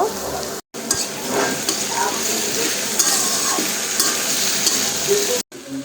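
Vegetables frying in a pan with ginger and green chillies, stirred steadily: a continuous close sizzle with scraping strokes and light clinks of the utensil, broken by two brief silent gaps.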